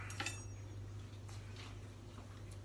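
Metal knives clink faintly as they are picked out in a kitchen during dim sum cooking, a few sparse light taps against a low steady hum.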